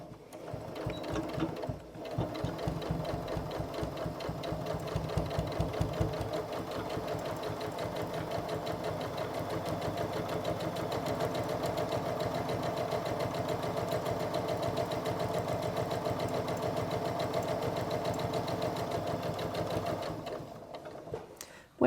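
A sewing machine stitching a zip into fabric runs at a steady mechanical whir with a rapid even needle clatter, loud and continuous until it stops near the end.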